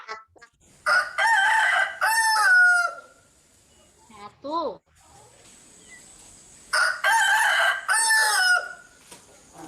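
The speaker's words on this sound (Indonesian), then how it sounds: "Kita dengar ya ayamnya berkokok ya." A rooster crows loudly twice, long rising-and-falling calls separated by a pause, during a children's Sunday school lesson; a brief voice speaks in the quiet between the crows.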